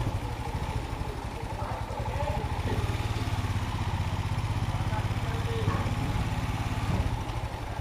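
A motorcycle engine idles with a steady low chugging rhythm, close by, as the bike is moved aside near a fish market, with voices in the background.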